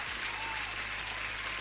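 A canned applause sound effect plays on a live trading stream, a short, dense burst of crowd clapping at steady volume.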